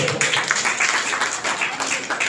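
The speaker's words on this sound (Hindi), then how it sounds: "50 आदमी ताली बजाओ" A crowd at a party workers' meeting claps in a brief, dense burst of applause mixed with some voices, fairly close and loud.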